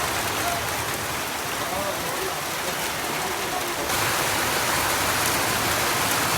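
Heavy rain pours steadily and loudly on surfaces nearby, a dense continuous hiss that grows slightly stronger toward the end and has no clear talk over it.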